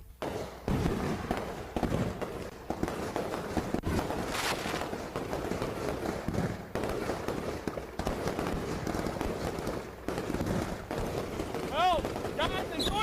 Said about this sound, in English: Got that bootleg fireworks.